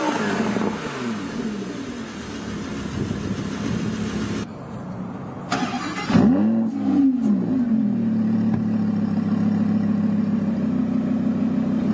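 Lamborghini Huracán LP610-4 V10 in Corsa mode revving inside a tunnel, a steady engine drone, then a sharp rising rev that falls off and settles into a loud, echoing hold.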